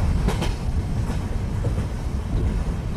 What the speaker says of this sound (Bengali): কিছুক্ষণের মধ্যে ট্রেন স্টেশনে এসে থামল।